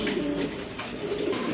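Pigeons at a market stall coo in low, throaty, repeated phrases, close and clear over a steady background hum.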